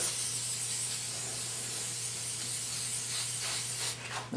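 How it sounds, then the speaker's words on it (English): Spray adhesive hisses steadily from a can onto the back of a paper pattern for a scroll saw clock project, a close continuous spray lasting about four seconds before cutting off. "I'm going to go ahead and apply the spray adhesive to the back of the pattern so we can stick it to the wood."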